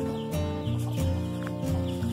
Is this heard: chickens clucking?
yes